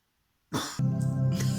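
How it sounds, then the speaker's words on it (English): A woman gives a sudden cough, followed by a short throaty, voiced hacking sound, close and fairly loud. "She got so dehydrated and she started coughing"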